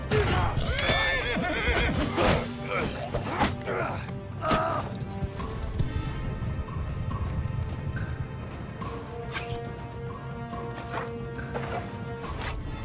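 Horse neighing and whinnying in the video game Mount & Blade 2 Bannerlord, a loud whinny near the start, then hoof clip-clops, clatter and battle noise throughout.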